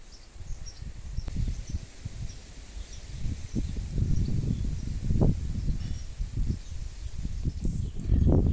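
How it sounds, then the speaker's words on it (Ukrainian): Steady wind gusting through a village garden, a broad rushing noise that swells and fades with occasional rustling and faint high chirps in the background. "Ой, вітер розходиться."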